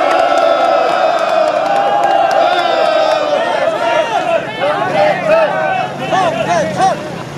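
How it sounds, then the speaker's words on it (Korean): A large crowd at an outdoor candlelight rally calling for electoral reform applauds and cheers, with whoops and loud chatter running throughout; the cheering is dense and close, swelling in bursts toward the end. "우리 정대철 상임고문님 다시 한번 큰 박수 부탁드립니다."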